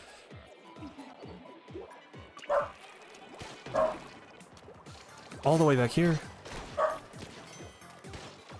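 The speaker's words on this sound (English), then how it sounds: "My dog is barking." A dog barks in the background several times, in short separate bursts with one quick double bark, while a person keeps talking over it.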